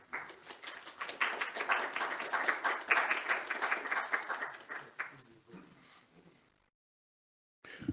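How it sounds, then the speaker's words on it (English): An audience at a Montgomery County Black History Month program claps, a lively burst of applause that swells, stays strong for several seconds, then thins out and ends before a short silence. "Thank you so much for that very kind applause."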